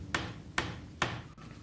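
Three evenly spaced, sharp hammer blows drive pre-glued wooden dowels into a clamped bench joint, close and distinct in a quiet room.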